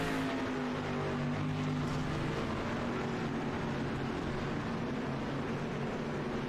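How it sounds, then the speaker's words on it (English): Steady drone of several race car engines in the iRacing video game, a continuous mid-volume hum with sustained engine tones and no clear pass-bys or voices. "letting everybody listen to the cars, watch them out here, but do some side by side, bumper to bumper action"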